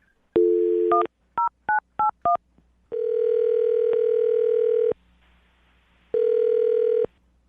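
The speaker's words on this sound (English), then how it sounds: "I'm going to dial the phone number right now, get her on the phone" A series of short touch-tone beeps as a number is dialed, followed by two long electronic ringback tones with a pause between them.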